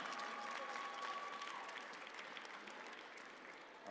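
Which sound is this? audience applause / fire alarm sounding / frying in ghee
audience applause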